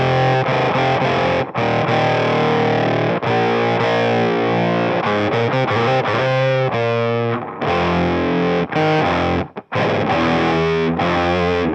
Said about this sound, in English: when you play lower in the guitar, it sounds very, very different, and you do actually get that kind of octave effect